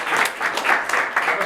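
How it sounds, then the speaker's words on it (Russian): A small audience claps to welcome a speaker at a tech talk, a brief, moderately loud burst of scattered hand claps with slight swells, no clear voices over it. "а теперь поприветствуем Вику."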